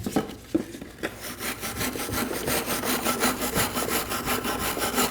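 A wire brush scrubs a rear brake caliper bracket on a 2019 Mazda 3, a close, rapid back-and-forth rasping of bristles on metal after a few initial knocks, continuous and fairly loud.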